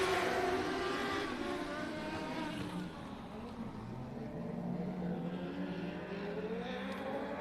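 Race cars roar through a heat race at Texana Raceway Park, a steady, loud layered engine drone with overlapping pitches from several cars, dipping slightly midway before building again.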